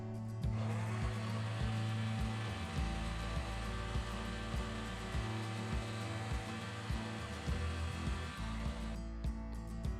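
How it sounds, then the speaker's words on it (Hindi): A grinder jar whirs continuously while mayonnaise is blended, producing a steady, moderately loud motor hum with an even tone throughout and no talking. "अपने ग्राइंडर जार को हम चलता ही रहने देंगे"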